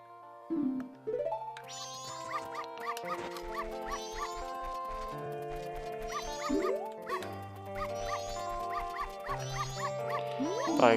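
Dogs in The Legend of Zelda: Majora's Mask give short synthesized barks and yips scattered over cheerful looping game music with percussion, with no talking.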